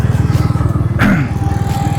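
A Honda CB350RS motorcycle engine while riding, a close, loud, steady low thumping with an even pulsing rhythm.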